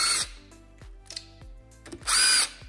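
A hammer knocks lock washers down on a Yamaha XT500 motorcycle engine during disassembly. Several sharp metallic taps sound close up, between short bursts of loud power-tool whine at the start and end.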